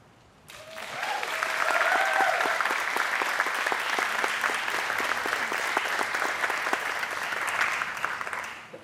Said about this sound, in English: let us show your appreciation with a round of applause